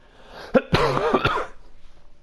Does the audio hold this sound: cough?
yes